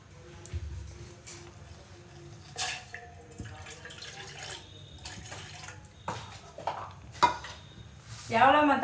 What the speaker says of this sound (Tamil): தண்ணி ஊற்றும்.